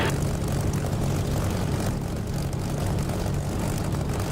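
A propeller aircraft engine drones at high power during takeoff in the DCS flight simulator, a loud, steady roar that holds without a break, with no voices over it.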